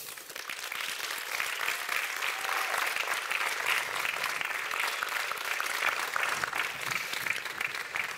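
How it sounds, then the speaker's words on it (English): Steady, dense applause from a graduation audience for new agricultural sciences graduates, a broad unbroken wash of clapping that holds evenly throughout. "Come on, let's give them a cheer,"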